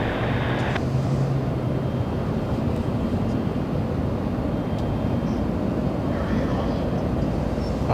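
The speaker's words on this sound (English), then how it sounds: "Biggest aircraft in commercial aviation flying only a few feet" Loud, steady roar of the biggest airliner in commercial aviation passing low on landing approach to runway 24 left at Los Angeles International Airport, a continuous jet rumble that stays close and heavy throughout.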